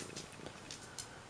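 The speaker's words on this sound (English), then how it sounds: "Purring, very happily purring," A pet cat named Sammy Bear purring contentedly, a soft continuous rumble close by with faint higher rustles drifting over it.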